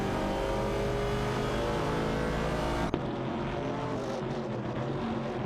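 Racing engines of a 1970 Pontiac Firebird and a 1970 AMC Javelin in a video game, a loud sustained engine drone that cuts sharply to a different, quieter engine tone midway.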